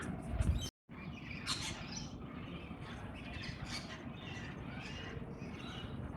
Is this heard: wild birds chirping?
yes